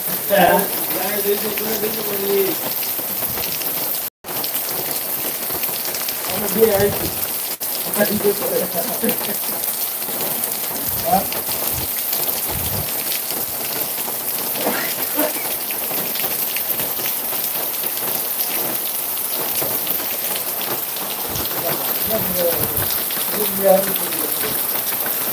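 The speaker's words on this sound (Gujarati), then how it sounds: "પંદર મિનિટથી વરસાદ સારો પડી ગયો" Steady rain falls close by without pause, a dense hiss with scattered drop impacts on a surface, while someone talks intermittently over it.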